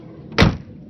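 A car door on a 1955 Rolls-Royce Silver Dawn swings shut with a single solid, muffled thud, close by, with no talking.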